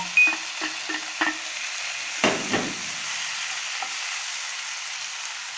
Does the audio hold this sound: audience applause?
no